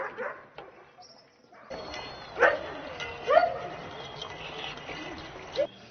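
Huskies at a husky farm give a few scattered, moderately distant barks and yips amid outdoor background noise, with faint voices and shuffling around them.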